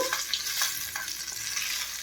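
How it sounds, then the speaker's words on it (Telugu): Mustard seeds, urad dal, green chillies and asafoetida tempering in hot oil, giving a steady close crackling sizzle with small pops throughout, no voices. "ఆవాలు, ఒక 1/2 స్పూన్ మినపప్పు, ఒక 2 పచ్చిమిర్చి, కాస్త ఇంగువ బాగా వేగాలి"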